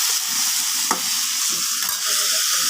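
Potatoes frying in a hot pan as turmeric and salt are stirred in. A steady close sizzle runs throughout, broken by a few scraping stirs, with no voices.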